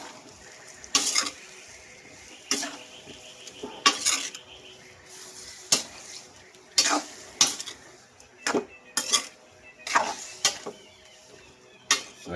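Pork pata adobo being stirred in a pot, with a series of sharp utensil scrapes and clanks against the metal coming in irregular bursts over a quiet background.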